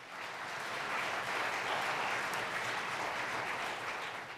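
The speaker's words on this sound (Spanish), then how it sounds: "enviémosles nuestro fuerte aplauso" Audience applause at a religious conference, a steady, dense wash of many hands clapping that swells slightly in the middle and carries on without speech.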